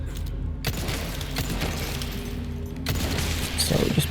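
Gunfire from crossbow zealots in the Resident Evil 4 Remake, a dense stream of sharp shots and booms over a steady low game rumble, with a louder burst of impacts near the end.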